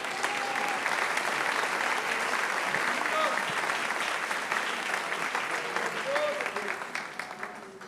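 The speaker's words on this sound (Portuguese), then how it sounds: "Louve a Jesus com as suas palmas" A church congregation claps steadily together during a worship service, a dense, sustained wash of applause that fades slightly toward the end.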